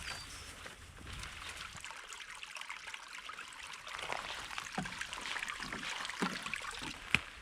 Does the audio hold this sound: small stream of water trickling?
yes